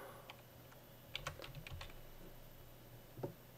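Computer mouse clicks while playing a modded Minecraft survival server: a few quiet, sharp clicks cluster together and then one more follows after a pause, over a low steady hum.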